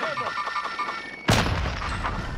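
A single sharp video game gunshot cracks loudly partway through, followed by a lingering boom and game ambience, with some faint speech-like sounds before it.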